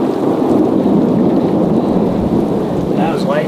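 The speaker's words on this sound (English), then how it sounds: "That was lightning right over the hill there." Rumbling thunder from lightning over a nearby hill rolls on steadily beneath heavy rain, loud and close for a few seconds, with no talk.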